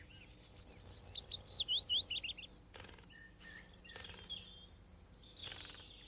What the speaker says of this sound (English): such as this willow warbler